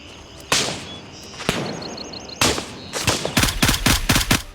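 Player's rifle firing in Gray Zone Warfare, close and loud: a few spaced single shots, then a quick run of sharp rapid cracks with echoing tails over faint ambient background.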